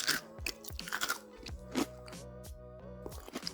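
Crisp, close crunching and chewing comes from bites of crunchy Nashville hot Chicken 65 fried chicken, with irregular loud crackles over a quieter background.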